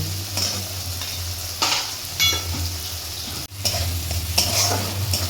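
Bitter gourd spice paste fries over a high flame in a pan, a constant close sizzle broken by several sharp stirring scrapes, with a brief dropout midway and no voices.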